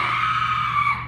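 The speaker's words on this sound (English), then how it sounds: "Let's all hear how you would scream!" A woman lets out one sustained, piercing scream at a special effects show at Universal Hollywood in California, loud and steady before cutting off abruptly.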